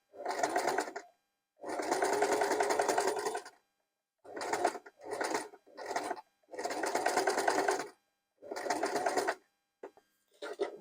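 A sewing machine stitching a straight seam runs in several bursts of rapid, steady whirring, each a second or two long, separated by short silences.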